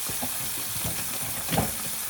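Food sizzles quietly in a skillet on a stove in an off-grid homestead kitchen, a soft continuous hiss and crackle with a brief louder spit near the end.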